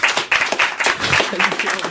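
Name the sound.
studio audience applause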